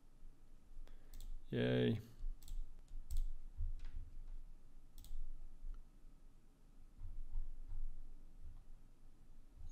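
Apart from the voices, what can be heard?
computer mouse clicks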